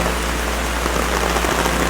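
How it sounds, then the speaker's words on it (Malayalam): Steady rain pours down in a dense, even hiss on wet ground and water, close and continuous without pause, with a low rumble underneath. "ഈ മഴ വെള്ളത്തിൽ കൂടെ അങ്ങനെ നടക്കുക സത്യം പറഞ്ഞില്ല അടിപൊളിയല്ലേ"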